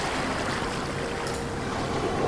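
Sea waves wash in a soft, continuous hiss of surf with a faint airy swell. The sound stays even and low throughout and no voice is heard.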